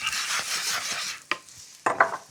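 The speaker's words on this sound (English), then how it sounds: "In here, I'm just going to add some oil. We're going to start off by frying some onions." Onions frying in oil sizzle with a steady hiss throughout, broken by a few sharp scrapes and clinks of a utensil stirring in the pan, close and fairly loud.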